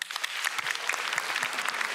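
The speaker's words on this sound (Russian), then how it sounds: "Так, я вижу, как вы хлопаете" Studio audience at a comedy club stand-up show clapping steadily, a dense continuous patter of many hands at close range, unbroken for two seconds with no voices over it.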